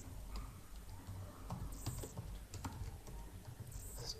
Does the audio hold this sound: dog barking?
no